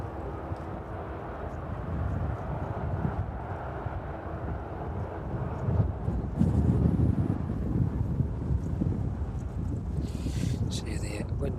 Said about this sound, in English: See the wind is battering us slightly.